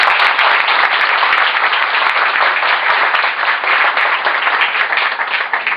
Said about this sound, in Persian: لطف کنید تشویقش کنید.